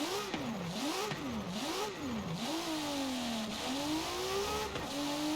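A racing engine in a stretched pickup truck in Forza Horizon 4 revs hard in repeated rising and falling sweeps, then settles into a steady high drone, loud and close throughout.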